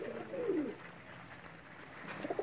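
Pakistani Kasuri breeder pigeons, a male and female pair, coo in soft throaty rolls, one clear burst near the start and another near the end, close by with no talk.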